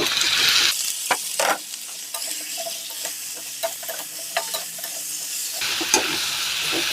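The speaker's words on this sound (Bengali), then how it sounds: "আমি এখন কাঁঠাল আর আলুটা কড়াইতে দিয়ে দিচ্ছি" Jackfruit and potato pieces frying in a spiced wok, a loud continuous close sizzle with repeated clattering stirs and scrapes of the utensil against the pan, a brief quieter stretch in the middle, no talking.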